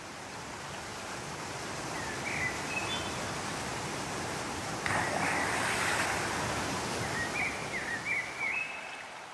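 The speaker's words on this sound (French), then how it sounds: "la cascade est une succession de 5 chutes au pied desquelles se forment des bassins naturels d'eau douce" El Nivinco waterfall in Patagonia, a series of five falls feeding freshwater pools, gives a constant broad rush of water with faint birdsong above it and no voices.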